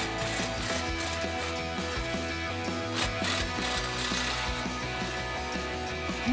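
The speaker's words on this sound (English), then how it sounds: "we're going to put an extension on our 14mm socket to get those out." A 14mm socket ratchet on an extension loosens the front exhaust flange spring bolts of a 2024 Toyota Tacoma, giving close, continuous rapid clicking with metallic mechanical ticks throughout.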